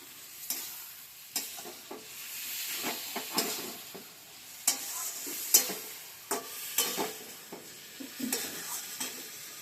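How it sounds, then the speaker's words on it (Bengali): Eggplant frying with turmeric in a pan, stirred with repeated scraping strokes over a soft, steady sizzle, close by and moderately quiet, with sharper clinks at intervals. "এবার একটু নাড়াচাড়া দেবো।"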